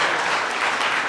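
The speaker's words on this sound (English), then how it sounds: "I think he deserves another round of applause." Sustained audience applause at an indoor career talk on entering the job market, a dense steady clapping crowd filling the moment, fairly loud and even throughout with no break.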